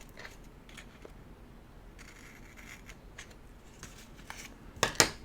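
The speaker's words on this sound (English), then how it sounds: "let's cut this part and see." Scissors snip through a planner sticker in a few soft, close cuts over quiet room tone, ending with a couple of sharper clicks.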